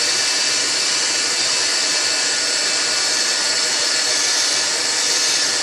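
A heat gun blows hot air onto the cracked glass of a Samsung Galaxy S3 screen, a steady, close, loud whooshing hiss with no break.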